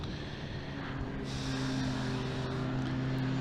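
BMW E36 touring car racing at Brands Hatch, its engine and induction note droning steadily and fairly loud, a continuous buzzing tone that holds throughout without pause.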